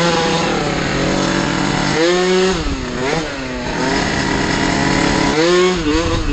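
An MBK Booster scooter fitted with a 70cc Athena Sport engine revs hard in town, its loud, buzzy two-stroke whine rising and falling in pitch through repeated throttle blips with no pause.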